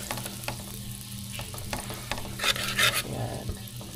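Sisig sizzling in a pan as it is stirred, a steady crackling fry broken by repeated scraping strokes of the utensil, close and moderately loud, with no talking.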